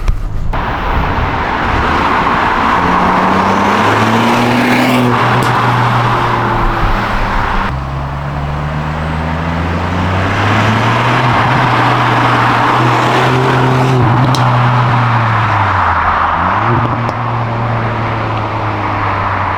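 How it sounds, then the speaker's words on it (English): A 2022 Ford Puma ST fitted with a cheap cat-back exhaust revs and shifts nearby, its engine note rising and falling in steady pulls while crackling pops break out on the upshifts, loud and continuous throughout. "That pops on an upshift."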